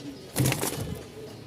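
Pigeons coo softly in a loft where birds are kept and sold, including biscuit-coloured and Danish and Rajshahi types, a brief low burst rising briefly above a quiet murmuring background.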